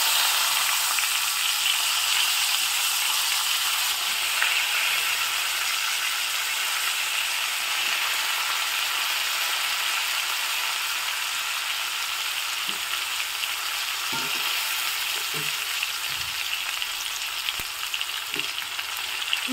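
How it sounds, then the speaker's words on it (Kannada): Chopped brinjal frying in tempering oil, a loud continuous hiss of sizzling fat close by, with a few faint clinks of stirring toward the end. "ಈಗ ನಾನು ಹೆಚ್ಚಿಟ್ಕೊಂಡಿರೋ ಬದನೆಕಾಯಿನ ಹಾಕ್ತಾ ಇದ್ದೀನಿ."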